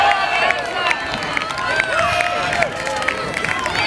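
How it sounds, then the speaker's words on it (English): Crowd cheering and shouting along the bank as the Cantabs rowing crew nears the finish line in a close junior quad sculls heat, loud and continuous with whoops and overlapping voices. "Let's hear a big cheer for Cantabs as they come towards the finish line"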